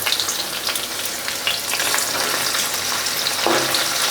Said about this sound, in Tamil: வெங்காயமெல்லாம் நல்லா வதங்கி வருது.